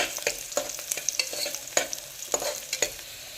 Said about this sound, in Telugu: ఇప్పుడు దీంట్లో కొంచెం జీడిపప్పు వేసుకున్నాం ఇది కొంచెం రెడ్ కలర్ అయ్యేదాకా వేయించుకోవాలి